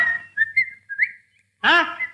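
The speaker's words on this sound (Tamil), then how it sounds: "அதான் பதில் கூட விசில்லே வருது." A person whistles a short tune in a few bright, wavering notes, close and clear, followed by a brief spoken exclamation.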